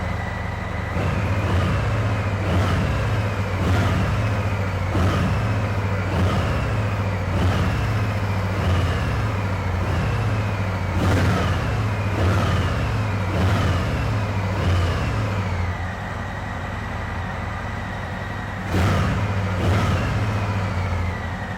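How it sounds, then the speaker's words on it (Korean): A 2019 Harley-Davidson FXDR 114 motorcycle with a stock muffler idles and revs in a low, fairly quiet rumble, with repeated throttle blips spaced a couple of seconds apart over a steady engine drone. "일단은 순정 머플러다 보니까요, 엔진의 사운드가 굉장히 조용합니다."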